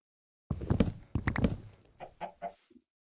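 Several short clucks from chickens close by, a quick burst followed by a few softer, spaced calls.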